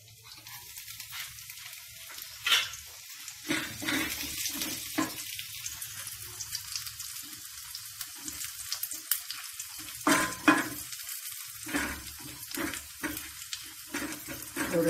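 An atta and peas snack mixture frying in a pan, with a close, crackling sizzle and irregular bursts of stirring and spattering throughout.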